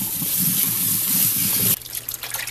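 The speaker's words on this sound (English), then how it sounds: "Rinse twice to get the salt content out." Running tap water rinsing salted zucchini, a steady loud gush that cuts off partway, followed by quieter dripping and handling.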